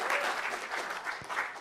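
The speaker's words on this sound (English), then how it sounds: "Let's give a round of applause." Round of applause from a seminar audience, a continuous, fairly loud wash of many people clapping with no voices over it.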